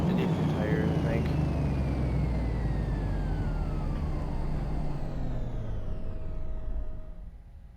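A car fitted with a supercharged V8 runs hard, a loud steady engine roar with a high supercharger whine that falls in pitch as it winds down and fades near the end.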